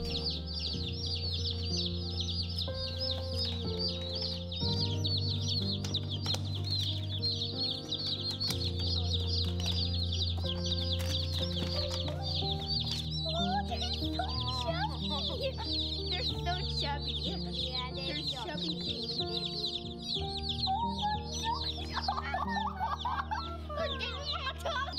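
Dozens of Cornish cross chicks chirp constantly in a dense, high-pitched chorus over a low mechanical hum, with a few louder peeps standing out.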